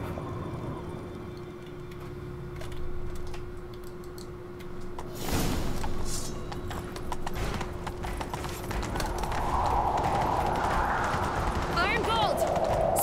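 Horses galloping in The Witcher 3: Wild Hunt, a steady run of clip-clop hoofbeats under game voices and background sound, getting fuller and louder toward the end.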